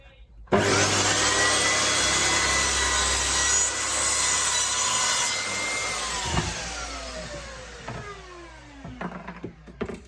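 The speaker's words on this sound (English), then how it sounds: "we'll just do a normal compound cut through this, and we will see how square it cuts" A DeWalt DWS773 sliding compound mitre saw makes a square compound cut through wood, with a loud, steady whining motor and blade roar that begins abruptly. The blade then winds down with falling tones and a few clunks toward the end.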